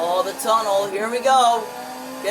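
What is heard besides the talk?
No everyday noise stands out behind the speech.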